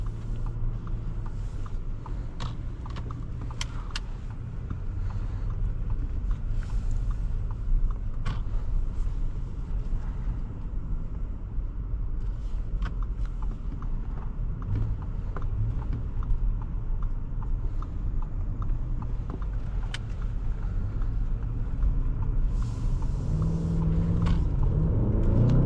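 A 2020 Audi S8 executive sedan driving on the road in dynamic mode, a steady low engine and road rumble heard from inside the cabin, with occasional creaks and the drone swelling toward the end.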